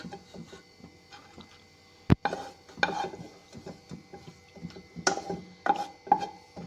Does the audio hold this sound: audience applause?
no